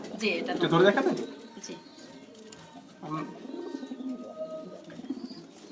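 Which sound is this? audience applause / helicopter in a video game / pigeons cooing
pigeons cooing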